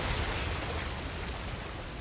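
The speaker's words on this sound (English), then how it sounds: "Another waterfall." Steady broadband rush of a waterfall in the jungle setting of Uncharted: The Lost Legacy's Western Ghats, a constant, full roar with no other sounds.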